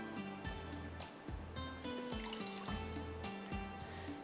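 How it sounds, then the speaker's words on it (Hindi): A small amount of water is poured into a cooking pan, giving a soft liquid trickle with faint clinks amid kitchen noise, fairly quiet and close. "थोड़ा सा डालेंगे पानी।"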